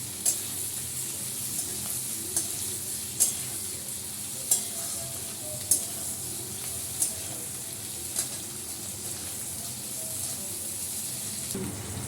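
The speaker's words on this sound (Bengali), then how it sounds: "পেঁয়াজটা ভালো করে ভাজা হোক।" Onions frying in a pan: a steady, close sizzling hiss broken by periodic sharp clicks and scrapes from stirring, with no voices.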